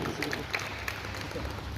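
Faint, distant applause from the audience at a Marwari Sammelan Guwahati branch gathering opening a three-day indoor games event, a soft patter of clapping mixed with murmuring voices.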